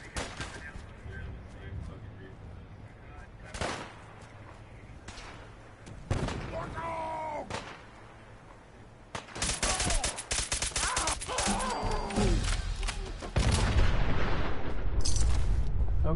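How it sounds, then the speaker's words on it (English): Missiles launch and explode in Fallout 4 in a loud, chaotic barrage of repeated blasts and rapid gunfire that grows denser and heavier toward the end, with someone talking over the battle at points. "I don't know what the fuck is shooting those missiles like that."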